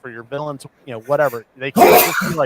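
A single sharp, noisy sneeze breaks in loudly near the end, cutting across a man's ongoing speech.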